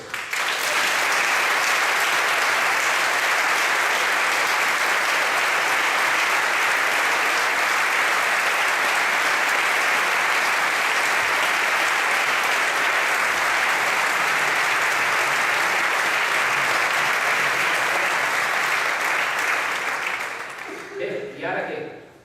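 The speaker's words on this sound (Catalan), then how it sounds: "demano un sincer i fort aplaudiment per a tots ells." A large audience at a state ceremony in Mollerussa applauds loudly and continuously for about twenty seconds, a dense even wash of clapping that fades out abruptly at the end.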